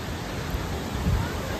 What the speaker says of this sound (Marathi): सगळ्यात मोठा वॉटरफॉल मध्ये सवत्सडा वॉटरफॉल येतो